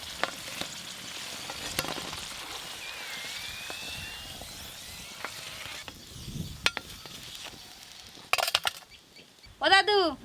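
Crispy khasta snacks frying in hot oil, a continuous sizzle with occasional clinks and stirring knocks, growing sharper and more broken near the end.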